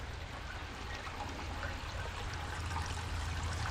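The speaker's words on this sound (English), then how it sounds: "A little waterfall made out of glass bowls." Water runs steadily through a small waterfall built from stacked glass bowls, making a continuous close splashing trickle with no breaks and no voices.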